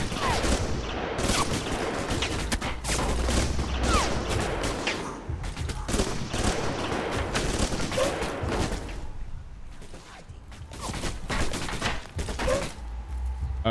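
Turret gunfire in the game Alpha Protocol, rapid crackling bursts of automatic fire running almost continuously and loud, with brief dips between volleys and faint talk underneath.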